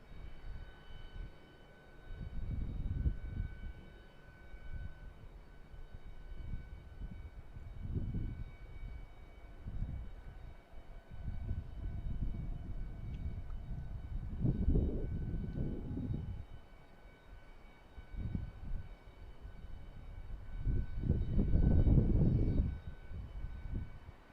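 A private plane's engine runs at an airport as the aircraft prepares to taxi to the runway, a low rumble that rises and falls in repeated surges, strongest near the end.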